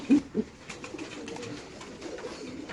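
Pigeons at a pigeon market coo softly at close range, two low throaty coos at the start followed by faint murmuring and background bustle.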